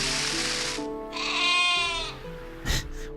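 Sheep bleats from the Catan board game video game play as a few drawn-out, wavering baa calls, loud and clear, followed by a brief soft thump.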